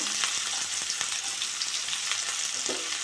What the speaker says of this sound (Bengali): পেঁয়াজ আর কাঁচা লঙ্কাটা একটু ভেজে নেবো